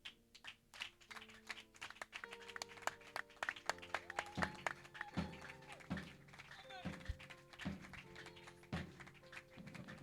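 A church congregation clapping for newly baptized people, scattered claps blending with music and sustained tones from the service, with voices talking over it.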